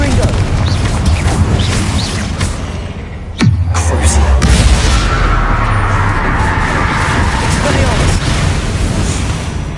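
A Confringo fire spell explodes in Hogwarts Legacy, a sudden loud boom about a third of the way in followed by a rumbling, crackling decay, set against dense ongoing game ambience and effects.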